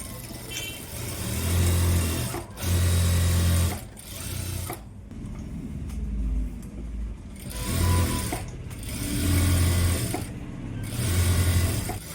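A sewing machine runs a double stitch along the edge of a Punjabi top. It comes in loud, close bursts of rapid whirring and clattering, with short pauses between the runs, and nobody talks.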